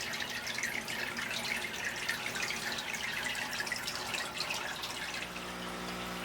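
Water splashes and trickles steadily into an Iwagumi planted aquarium during a water change, a continuous bright dripping and pouring sound with no talking.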